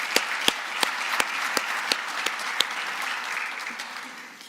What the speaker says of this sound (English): Let's give another round of applause to President Kabourek.